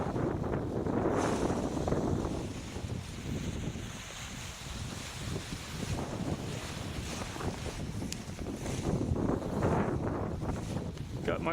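Strong inland wind sweeps across an open grass field, a continuous rushing roar with heavy buffeting on the microphone that swells and eases in gusts for the whole stretch.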